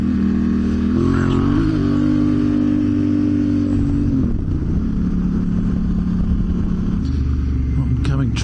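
A motorcycle with a baffle still fitted in its loud exhaust, ridden on an open road; a steady droning engine note holds throughout, dipping and shifting pitch midway as the throttle changes, close and dominant against wind noise.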